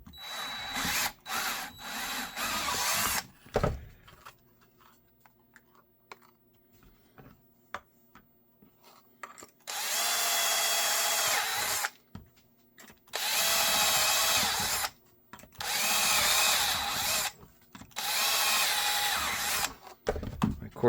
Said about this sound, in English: My 1/4 inch drill bit is as sharp as a 2x4.